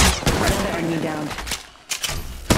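Gunfire in the mobile battle royale game Apex Legends Mobile, playing as Caustic: a dense burst of rapid shots crackles throughout, briefly dropping away before more sharp cracks return near the end.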